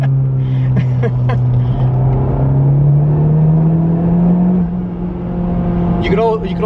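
A 2017 Honda Civic Type R's turbocharged engine drones steadily under acceleration, its pitch rising gradually as it pulls, then easing off near the end with a brief airy release, loud and close inside the cabin.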